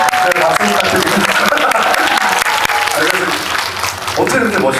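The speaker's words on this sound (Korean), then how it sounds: "박수 부탁드립니다." A cinema audience at a film talk event claps loudly and continuously, with voices mixed in over the applause.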